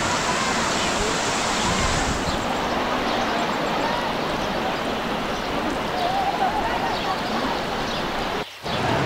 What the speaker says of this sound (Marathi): खरी धबधब्याला सुरुवात इथून होते